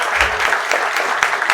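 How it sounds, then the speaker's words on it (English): Audience applause at a Jonesboro Rotary Club 40th anniversary gathering, steady close clapping from a room of people with sharp individual claps standing out. "So let's give Debbie a round of applause."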